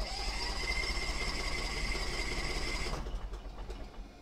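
An Argo 8x8 amphibious vehicle in neutral with choke and throttle applied turns over with a steady whirring crank and mechanical whine, which cuts off near the end and leaves faint background noise.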